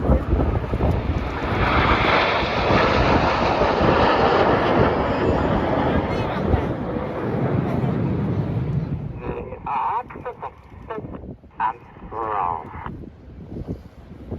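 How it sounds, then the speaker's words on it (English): RAF Red Arrows jets perform at the Blackpool Airshow, a loud, broad jet roar with wind buffeting that fades after several seconds, leaving a quieter, fluttering engine tail. "As the team roll to the left, on the far right hand side uppermost is Red 4, Flight Lieutenant Ollie Suckling."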